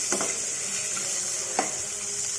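Okra frying in a pan gives a constant bright sizzle, broken by two quick scraping stirs of a spatula, close and fairly loud.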